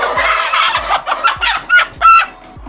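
Chickens about 18 months old and molting cluck close by in a quick, uneven series of short calls, with one louder squawk near the end, and no talk.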